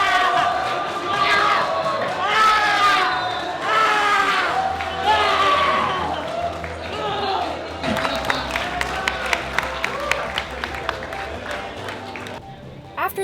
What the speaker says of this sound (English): Ray went for a backflip off the bar and went completely Super Saiyan afterwards to get the crowd going at the end of the championship battle.